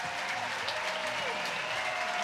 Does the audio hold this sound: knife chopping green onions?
no